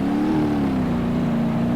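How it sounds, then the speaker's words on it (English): A simulated car engine in the BeamNG.drive driving game drones steadily with a buzzy tone that dips slightly after a brief rise, loud and alone without talk. "the sound assets for the engines, they're kind of crappy"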